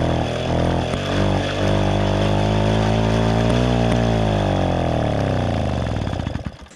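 A Motobécane AV42 moped engine struggling to start, its loud, close two-stroke drone wavering and rising in pitch before sagging and cutting out near the end.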